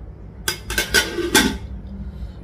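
A metal karahi (wok) set down on a home kitchen stove, giving three or four clanking metal knocks close by within a second, with no talk.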